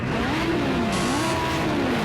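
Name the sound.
race car engines revving on the grid in Project Cars 2 video game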